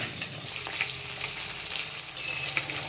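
Bacha fish sizzling in hot oil in a pan, a steady, close crackling hiss with small pops throughout and no voices.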